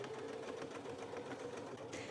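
Domestic sewing machine running steadily while stitching denim scraps freehand, a continuous mechanical whirr with a low motor hum, close and fairly quiet, no speech.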